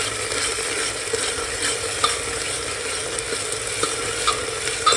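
Onion cooked to pink is sautéed with ginger-garlic paste over low heat for a chana-potato bhaji, making a constant close sizzle marked by light, irregular ticks and scrapes from stirring, and nobody speaks.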